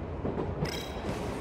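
A train pulls in within the video game 13 Sentinels: Aegis Rim, a steady rumble of railcars rolling along the track with clattering wheels and a faint high squeal building partway through.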